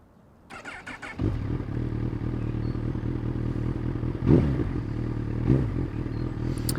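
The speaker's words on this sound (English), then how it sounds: "let's do some riding on the CB1000R and get our riding impressions" A Honda CB1000R motorcycle starts on a road ride, with a short clatter first and then a steady engine hum that stays close and rises in a few throttle surges.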